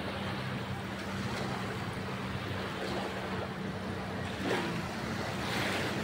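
Rough surf washes steadily onto a beach at a resort lagoon with clear water, a continuous roar with some wind buffeting and no voices.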